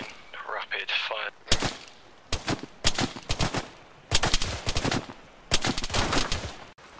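Rapid rifle fire in a military video game, several loud, sharp bursts of automatic shots in quick succession, separated by brief pauses, with faint voices early on.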